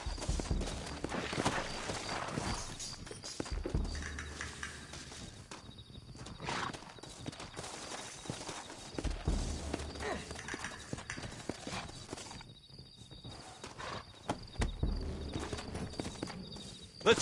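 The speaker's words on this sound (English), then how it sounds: "Looks like Carlos left us some horses" Horses walking with a steady clip-clop of hooves close by, continuous across the scene with some rustling and movement noise, and no clear talking.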